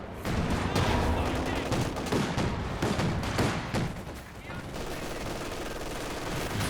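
Machine gun fire in the real-time strategy game Company of Heroes 2, sustained rattling bursts with scattered thuds and distant battle noise, heard beneath a commentator speaking over the action.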